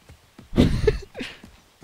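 A horse in the video game Assassin's Creed 3 snorts and whinnies at close range, a short burst with a higher neighing call near the end, over faint background noise.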